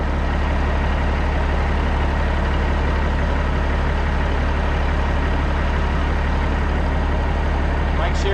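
A cabover Aerodyne truck fitted with new exhaust stacks idles with a steady, deep, unbroken rumble. The sound is close and constant throughout, with no revving.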